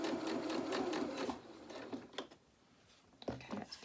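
A sewing machine stitches the edge of a small waistcoat, fast rhythmic mechanical clatter that runs, slows to a pause, then resumes briefly, heard close and fairly quiet.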